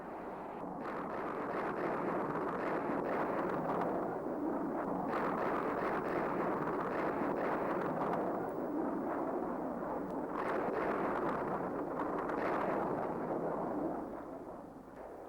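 Sustained, heavy rumbling roar from B-52 bombing strikes on bunkers, trenches and tunnels around Khe Sanh, a continuous loud wash of distant blasts with no clear pauses, lasting throughout.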